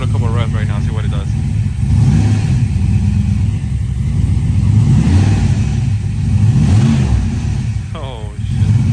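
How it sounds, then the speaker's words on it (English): A forged-bottom-end LS engine on EFI revs up and down several times, loud and close, with a person talking over it at the start and end. "How about we give it a couple of revs right now, see what it does."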